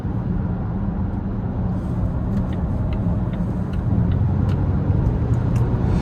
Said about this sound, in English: There's always a lot of interesting sounds happening under the hood of this thing as well, with that supercharger and the turbocharger kind of acting together.